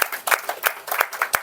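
A small audience at a Toastmasters club meeting claps to welcome the host, with sparse, distinct handclaps in an uneven, loosely overlapping rhythm at moderate loudness and no talking.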